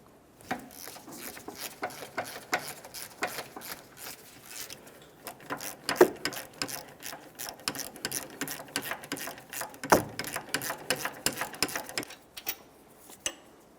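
An 18mm caliper bolt on a Jeep Grand Cherokee is loosened with a ratchet, giving a long run of rapid, close metallic clicks in bursts and no talk.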